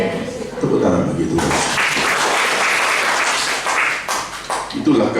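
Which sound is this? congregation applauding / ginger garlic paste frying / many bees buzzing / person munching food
congregation applauding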